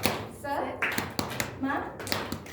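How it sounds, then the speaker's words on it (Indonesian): A group in an Indonesian classroom does the 'tepuk semangat' clapping chant, sharp rhythmic claps in a patterned beat mixed with chanted voices. "Tepuk semangat seperti ini."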